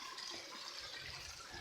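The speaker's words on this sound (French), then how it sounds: "Là, on est dans une petite rivière." Water in a small river flows and rushes steadily as a faint, continuous hiss close by, with no break and no other sound.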